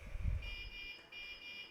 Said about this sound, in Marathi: हॉर्न मारलो.